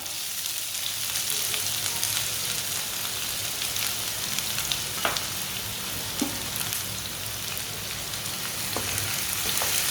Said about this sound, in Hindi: एक बारीक कटा हुआ प्याज डालेंगे।